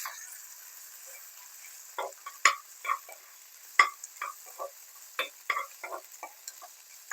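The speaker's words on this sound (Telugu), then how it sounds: "ఆనియన్ లైట్ కలర్ చేంజ్ అయిన తర్వాత కొంచెం తగినంత అల్లం వెల్లుల్లి పేస్ట్ వేసుకుని మిక్స్ చేసుకున్నాం" Onion and ginger garlic paste frying in a pan for mushroom curry, a faint low sizzle broken by irregular scraping stirs and light clinks of a spoon, no talking.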